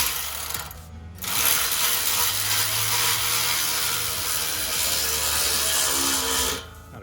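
Power tool and sockets tightening fittings on a Corsa exhaust at night, a steady loud whirring drone running for several seconds between brief quieter gaps.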